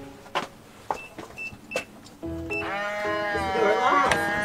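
An electronic beeping inside a house after a break-in: short high beeps at first, then a sustained wavering tone with layered overtones that continues to the end, with faint noises underneath.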